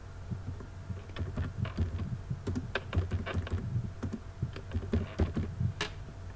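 A sixteen-digit debit card number is typed on a computer keyboard, giving a steady run of close, crisp key clicks at an even pace.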